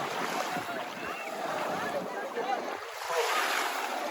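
Clear seawater laps at the shore at Palmanova, Mallorca, a soft wash of small waves with wind buffeting the microphone, fairly close and continuous, with no talk.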